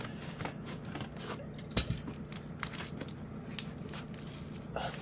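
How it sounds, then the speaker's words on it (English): Big scissors cut open a double-layered shipping package, quiet crisp snips and crinkling of packaging in a scattered irregular rhythm, fairly close, with no talking. "This is why I bought the big scissors."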